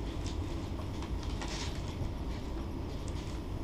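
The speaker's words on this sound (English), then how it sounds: "It's a high-speed bullet train." Steady rumble of a high-speed bullet train in motion heard from inside a carriage, a constant low roar with faint rhythmic clatter.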